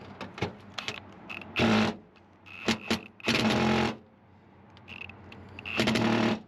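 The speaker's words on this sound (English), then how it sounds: "Alright, so just trying to take out the screws," Rusted screws are driven out of an F350 truck floor with a power driver, several short whirring bursts separated by pauses and faint clicks, close and fairly loud.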